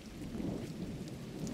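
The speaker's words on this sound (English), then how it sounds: "Rain. First time seeing rain in this game." Rain with distant thunder in the video game Gris, a steady soft low rumble with a wash of falling rain, continuous and moderately quiet throughout.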